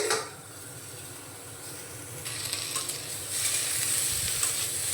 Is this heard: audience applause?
no